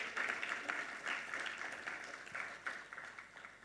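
Applause from a crowd, fairly faint and distant, a steady patter of clapping that swells and fades slightly throughout.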